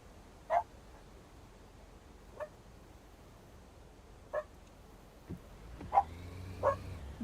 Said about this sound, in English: they're being very naughty with the barking today